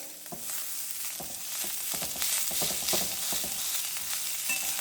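Chutney ingredients for a ridge gourd thuvaiyal roast in a hot pan, a steady sizzle broken by repeated scraping stirs of a spoon against the metal, close and even throughout.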